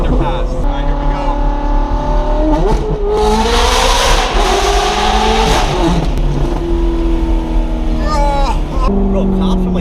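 A Ferrari engine roars loudly as the car passes through an underpass, the revs climbing and shifting in reverberant bursts, with people talking and exclaiming over it throughout.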